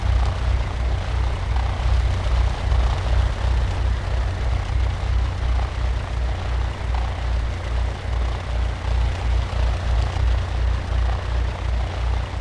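Light aircraft engine droning steadily at low power during a flapless glide approach, a continuous near hum with a low throbbing pulse, no talking.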